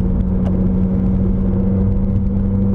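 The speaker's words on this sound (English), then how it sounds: "get ready for noise, because I'm about to get on Highway 26. Sounds like I'm driving on tile." Steady, loud car road noise on Highway 26, a dense low rumble and tire whir from inside the moving vehicle, continuous and unchanging throughout.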